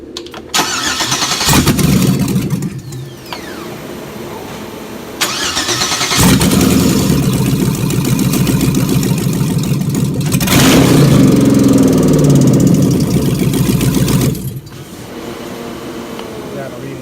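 Car engine cranking over on a compression test, then repeatedly revved with the throttle held wide open to around 3,000 RPM, loud rising and falling surges with short idle gaps between, voices talking at points.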